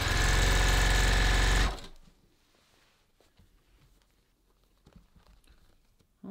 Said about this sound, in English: So I'm speed sewing right now.